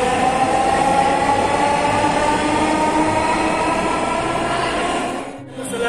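A Dhaka metro rail train runs steadily, its dense rumble and rolling wheel noise holding loud and close through most of the stretch before easing and briefly dropping near the end.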